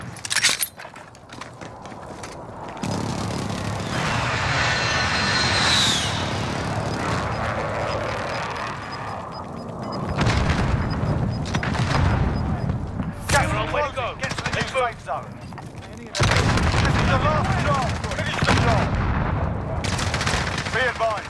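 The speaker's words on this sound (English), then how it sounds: "Friendly precision airstrike inbound." Call of Duty multiplayer combat with an incoming precision airstrike: continuous loud gunfire, machine-gun bursts and explosive blasts, with heavy rumbling passes and intermittent voices talking over the action.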